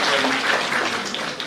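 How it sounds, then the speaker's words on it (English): An audience breaks into steady, dense applause at a Women's Day gathering, a continuous wash of clapping filling the room, close and loud with no speech over it. "I think that's needs an applause from all of us."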